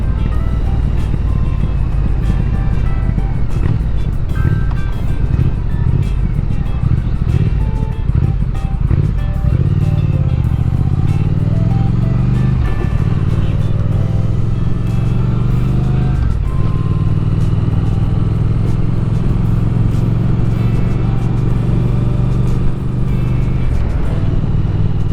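A motorcycle ridden in rain mode along a rural Pennsylvania road, its engine a steady close drone that rises and falls with several gear changes and throttle swells over wind noise.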